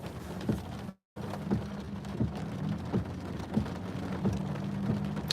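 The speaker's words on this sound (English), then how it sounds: "And I hate driving in the rain." Steady rain patters and drums on a car body, with a low engine rumble underneath and a brief dropout of sound near the start.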